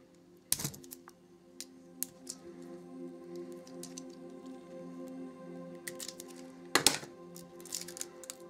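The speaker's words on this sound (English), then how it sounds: "I'm gonna cut into this without slicing all the cards up." A blade cuts through the packaging of a Walking Dead: All Out War board game box in soft irregular scrapes and snips, with two sharper crackling bursts of plastic or cardboard. A low hum sits underneath and no one speaks.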